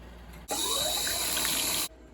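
A metal pot kept for iron, holding reddish water, is rinsed under a running tap. Water bursts on suddenly and splashes steadily for about a second and a half, then cuts off.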